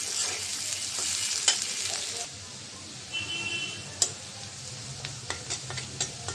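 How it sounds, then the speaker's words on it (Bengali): Onions fry in oil in a wok with a quiet, continuous sizzle, punctuated by light ticks and taps of a spatula against the pan. "পেঁয়াজটা ভেজে নেব।"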